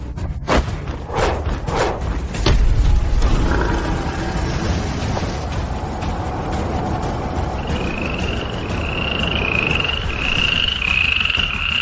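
Frog croaking sounds in a martial arts fantasy scene, a few deep resonant croaks and thuds followed by a rising, repeated chirping croak that grows louder toward the end.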